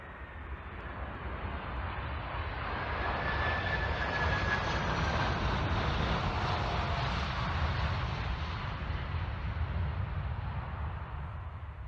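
A Cargolux Boeing 747-400 at full go-around power climbs out during a touch and go, its loud, steady jet roar swelling and holding for about twelve seconds with no talk.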